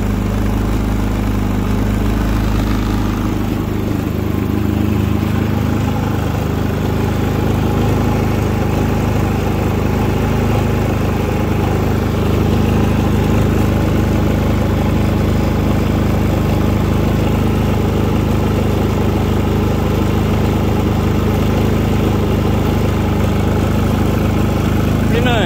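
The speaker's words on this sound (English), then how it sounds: "Put it on the on position, it'll idle down when power is not needed as much" A new Predator 3500 inverter generator runs just after its first start, a loud, close, steady engine drone that holds even throughout, with a slight shift in tone early on.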